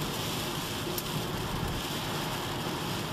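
Rain beats steadily on a car during a stormy drive around town, a constant dense hiss with low rumble heard from inside the vehicle.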